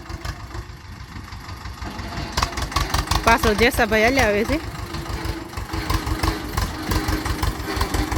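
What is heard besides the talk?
loaded tractor engine running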